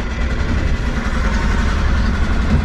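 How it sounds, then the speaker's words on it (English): A sailboat's engine runs at a steady idle, a continuous low rumbling drone with no break, fairly loud and close, with no voices. "we might actually just get the engine going again"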